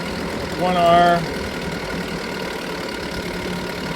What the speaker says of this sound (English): you'll see what the RPM does and listen to the motor